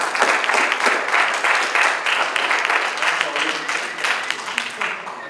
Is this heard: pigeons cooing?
no